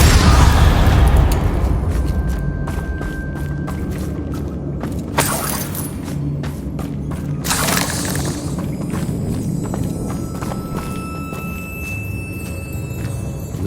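Hogwarts Legacy spell casts, Confringo, Glacius and Depulso, set off a run of booming explosions and shattering bursts that crackle and pop over a steady rumbling game backdrop, loud and dense throughout.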